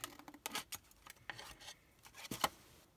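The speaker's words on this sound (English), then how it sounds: "And you just want to cut another little notch there." Scissors cutting a small notch in patterned paper for a handmade treat pouch give a few quiet, close snips and paper rustles, with one sharper crisp cut near the end.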